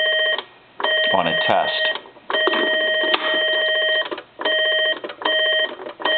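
Beeping tone from a transistor checker used while repairing a Crosley wooden wall telephone speakerphone: a bright ringing tone in repeated bursts with short gaps, fairly loud, with a voice talking alongside.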